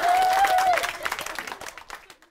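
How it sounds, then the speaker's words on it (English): Studio audience applause on a BBC quiz show, starting full under a brief voice and trailing off into scattered claps within a couple of seconds. "Give her a round of applause."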